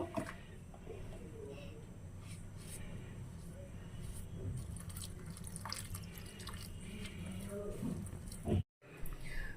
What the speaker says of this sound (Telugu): ఇప్పుడు మనం వాటర్ పోసుకొని కలుపుకుందాము.